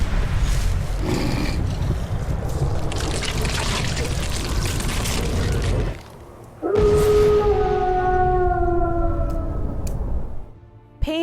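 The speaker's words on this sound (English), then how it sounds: "Pained snarls and howls." A werewolf from a Skyrim mod snarls in pain, producing dense, harsh roaring. After a short break come strained, wavering howls that slide downward before cutting off, loud and close.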